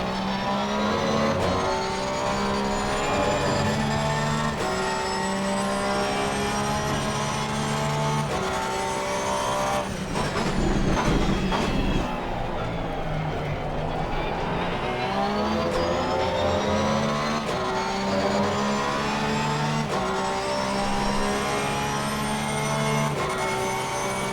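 A Porsche race car in Assetto Corsa Competizione at Zolder, its engine loud and continuous as it revs up through the gears, with a brief deeper burst partway through.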